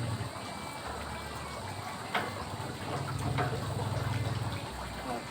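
Water from a source runs steadily into an aquaponics pipe. It gives a faint, continuous trickling wash with a few soft knocks, and the flow swells slightly partway through.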